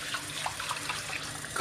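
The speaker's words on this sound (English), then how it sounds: "what we're doing here is we're taking the starch that's on the outside of the rice and washing it off" Tap water runs steadily into a sink while rice is rinsed to wash the starch off the grains, a close, continuous splashing flow with small watery variations and no voices.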